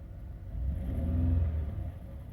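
The engine of a 2001 Chevrolet Monte Carlo LS idles with a low, steady rumble. It swells slightly midway and then settles, heard close with no talking.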